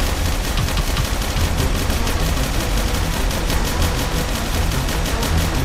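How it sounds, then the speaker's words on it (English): Steady, loud stream of rapid automatic gunfire aimed at the player in an escape-themed video game, unbroken for the whole stretch with no voices over it. "Who's shooting at me?"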